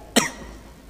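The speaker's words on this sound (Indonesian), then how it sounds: "Batuk kai." A single short cough, close and sharp, followed by quiet room tone.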